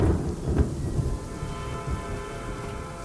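Heavy thunderstorm with steady, dense rain and deep rolling thunder, loudest at the start and easing slightly while the downpour continues close and unbroken.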